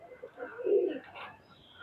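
Pakistani highflyer pigeons, golden and teddy birds in a loft in Khulna, give a soft, low coo that swells and fades over under two seconds, close by and moderately loud, with no talking.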